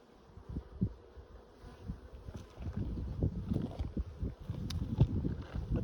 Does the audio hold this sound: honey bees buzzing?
yes